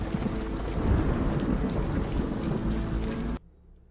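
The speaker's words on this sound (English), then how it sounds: "It's almost raining as hard as it was this afternoon." Heavy rain pours steadily outside with a deep thundery rumble underneath, a dense, loud downpour that cuts off abruptly just before the end.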